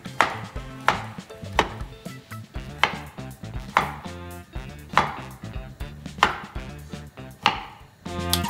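A knife slices through fried plantains on a cutting board, with a steady rhythm of about ten crisp, close chops hitting the board and no voices.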